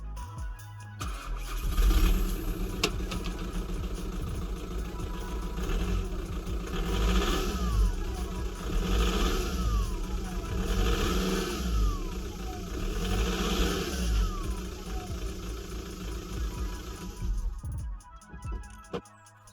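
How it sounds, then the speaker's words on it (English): A worn, smoking VW Golf engine cranks, catches and runs, then is revved repeatedly in rising and falling sweeps over a rough idle, loud and close, until it shuts off near the end. "when you start it up, it smokes like a mother"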